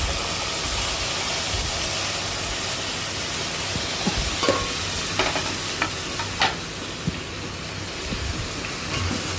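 Tomatoes stirred into a pan for methi pulusu, a steady broad sizzle running throughout with scattered clinks and scrapes from the spoon in the later half.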